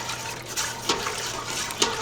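Broth of bouillon base and water being stirred in a pot, a soft continuous sloshing of liquid with a few faint clinks of the spoon against the side, close and alone.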